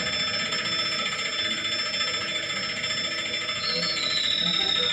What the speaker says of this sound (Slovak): budík zvoní, inte hvízda.